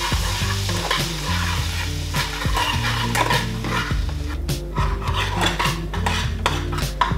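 Butter with red pepper sizzles loudly in a pan for a pumpkin soup topping, a continuous close crackle broken by scraping stirring strokes, with no talking.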